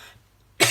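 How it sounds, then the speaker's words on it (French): A single short, loud cough bursts out near the end after a quiet pause, close and dry, with no talking around it. "Ça me fait tousser."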